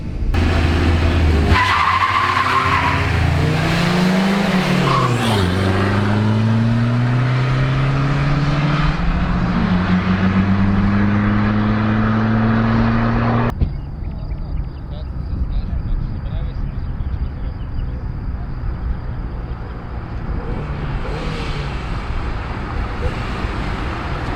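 A Renault Laguna revs hard and accelerates with rising engine pitch and tyre skidding, loud and close, then cuts to a quieter rolling road noise, with people talking over it.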